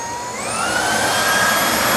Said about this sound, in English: If you want to attach this to the handheld vacuum, you attach it, go vacuum up a pet bed or your car or something